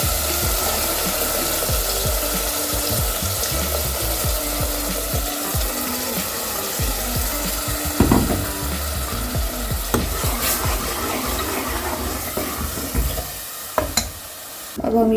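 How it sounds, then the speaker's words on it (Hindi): Whole spices and masala for a Punjabi dhaba-style chicken curry are stirred and fried in a pan, giving a close steady sizzle under repeated scraping spatula strokes and a few sharper knocks, with no voices. "और अब हम इसमें ये मसाला मिक्स कर देंगे।"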